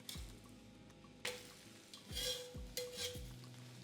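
A savoury Brazilian crepe is turned with a spatula in a frying pan over a very low flame: a soft sizzle under several clear metal scrapes and clinks of spatula against pan, close and without talk.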